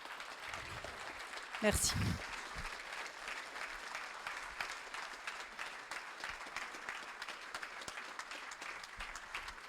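A hall audience at a mayor's New Year address applauds three long-serving councillors who are retiring, broad steady clapping that runs through the whole stretch, with a brief word of thanks spoken over it.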